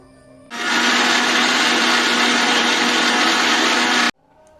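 A kitchen blender grinds garlic, ginger, onion, a dried chili and curry leaves into a paste, starting abruptly, roaring loud and steady for about three and a half seconds, then cutting off sharply.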